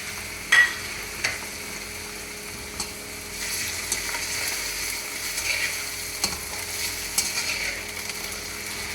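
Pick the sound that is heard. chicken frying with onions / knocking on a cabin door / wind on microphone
chicken frying with onions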